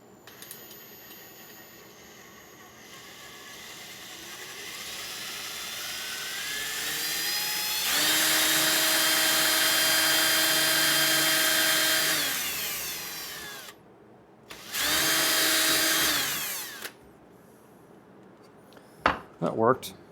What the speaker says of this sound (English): Maybe we can go on the other side of that drill bit.